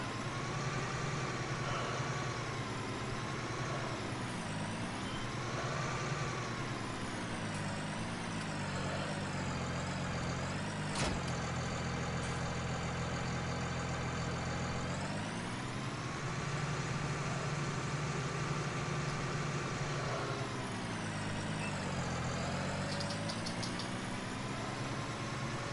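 A tractor engine in a farming video game idles steadily for the whole stretch, a loud, close, continuous rumble whose pitch dips and rises a few times, with a brief sharp click near the middle.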